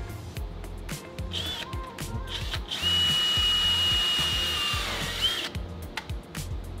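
A power drill whirs in a long sustained run with a rising whine, drilling holes with a pilot bit then a quarter-inch bit for Zipwake boat trim tabs, preceded and followed by shorter bursts and clicks, close up.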